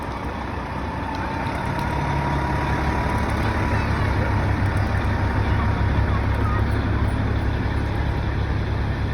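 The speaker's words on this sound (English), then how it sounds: "Of course we see a fire engine," A fire truck rolls past in a Christmas truck parade in Campbell River, its steady diesel rumble loud and close for the whole stretch, with voices in the background.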